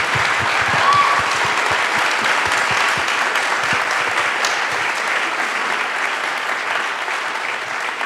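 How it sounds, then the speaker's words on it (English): Steady, dense applause from a large audience at an evening event honoring speakers and experts, sustained and loud throughout, with faint voices mixed in. "I'd love to give a round of applause to all our amazing speakers and experts"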